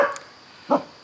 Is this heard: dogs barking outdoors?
yes